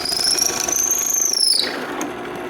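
A drill bores through to widen a quarter-inch pilot hole, a close, rattling grind with a high whine that climbs and then drops away as the bit slows.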